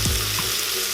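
A Morphy Richards Total Control soup maker on its sauté setting, giving a steady close sizzle of ingredients cooking in the jug.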